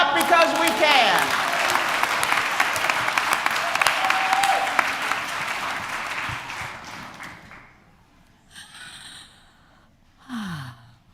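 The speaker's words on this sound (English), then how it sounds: "And then we clap because we can" A congregation at a Sunday worship service claps loudly for several seconds, then the applause fades out, leaving quiet pauses broken by short bursts of voices and breathing sounds.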